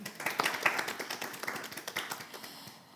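A group of schoolchildren clapping in a lively, uneven patter of individual hand claps, moderately close and fairly quiet, with no talk.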